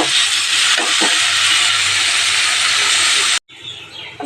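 Arr fish frying with spices in hot oil in a pan, a loud, steady sizzling hiss that cuts off abruptly near the end, leaving a quieter crackle.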